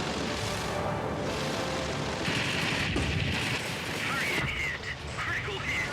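Dense, rumbling bursts of aircraft cannon fire roll on and on in a noisy World of Warplanes battle, with engine drone beneath.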